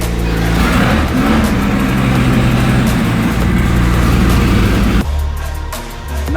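A Lamborghini Countach drives along an Italian countryside road, its engine a loud, steady drone that shifts pitch as it pulls. Near the end the note drops abruptly, as after a gear change.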